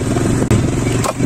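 A motorcycle engine runs loud and close, a steady throbbing rumble with a brief dip and some clatter partway through.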